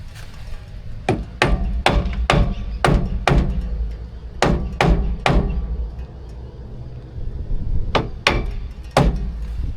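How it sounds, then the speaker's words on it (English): A hammer taps a part across on a truck fitting that came off a Nissan and is being fitted to a Toyota, striking in sharp, close metallic blows in three quick bursts of four to six hits with pauses between. "And I just got to get the hammer"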